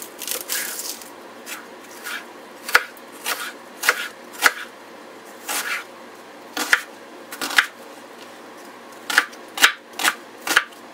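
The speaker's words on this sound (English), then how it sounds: "cut your onion" A knife chopping an onion on a cutting board, heard as a series of sharp, close thuds in an irregular rhythm, loud and alone with no talking.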